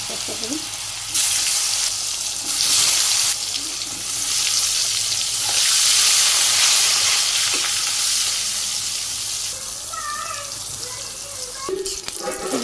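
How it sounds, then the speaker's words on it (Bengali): Eggplant slices sizzle and crackle steadily in hot oil in a Bangladeshi village kitchen, a loud, continuous frying hiss that swells in the middle, with brief clinks and stirring near the end. "তেল গরম হয়ে গেছে বেগুনগুলো দিয়ে দিই"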